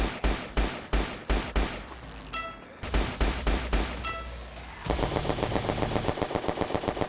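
Nerf-style guns firing in a top-down shooter video game: evenly spaced punchy shots, then bright ringing dings, then more shots and a fast, steady rapid-fire stream near the end; close and loud, no talking.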